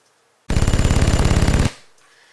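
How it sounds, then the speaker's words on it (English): Machine gun sound effect: a single loud rapid burst of about twenty evenly spaced shots lasting just over a second, followed by a short decaying tail. "And then up next we've got some machine gun fire"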